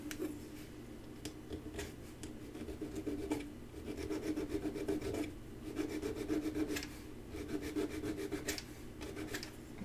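Rough surface being smoothed off a carved piece: repeated close rasping and rubbing strokes in a steady back-and-forth rhythm, fairly quiet, with no voices.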